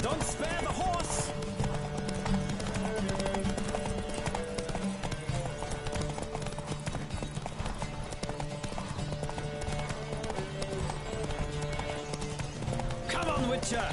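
Horse hooves clip-clop steadily at a gallop throughout a race in The Witcher video game, riders shouting encouragement over the continuous hoofbeats and background game music.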